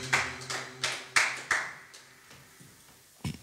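Church congregation applauding the Lord in a series of loud, slightly uneven bursts of clapping, roughly evenly spaced and fading toward the end, with no talking.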